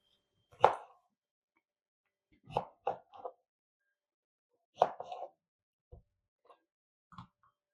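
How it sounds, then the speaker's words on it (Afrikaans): A knife cuts an orange into eighths for marmalade on a board, giving sharp, close chops in small clusters separated by quiet pauses, about a dozen cuts in all, with no talking. "ek vat die lemoen, sny daai wit gedeelte af en dan sny ek hom in agstes"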